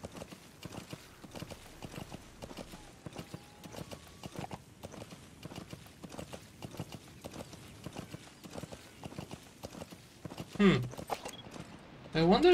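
A horse clip-clops along at a quick, even rhythm in the Metal Gear Solid V: The Phantom Pain video game, a steady run of hoof beats heard up close, with a few sharper louder bursts near the end.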